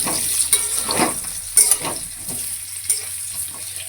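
Potatoes fry in hot mustard oil in a kadai for a chicken and potato curry, giving a steady, close sizzle broken by a few scraping stirs and utensil clinks, with no voices.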